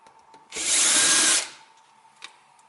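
A Makita electric drill whirs in one loud, close burst lasting about a second, then spins down, with faint clicks before it and a small knock after.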